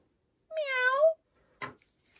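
A cat gives one clear, drawn-out meow, followed by a brief sharp noise and quiet.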